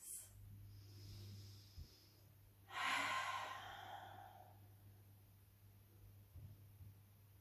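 Deep, slow breath drawn during a stretching exercise with a resistance band, a soft airy inhale and exhale rising around the middle of a quiet stretch, close and gentle with a low steady hum underneath.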